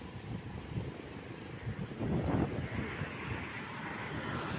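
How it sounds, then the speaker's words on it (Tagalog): Strong wind buffets the microphone at a roadside bus stop in a steady, low roaring rumble that swells briefly midway. "Malakas yung hangin."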